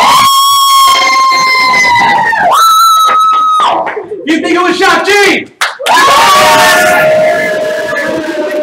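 Live studio audience at a game show cheering and shouting for a contestant in a loud, sustained burst, with a host's voice speaking over the crowd noise.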